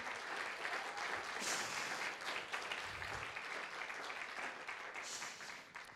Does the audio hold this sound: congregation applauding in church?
yes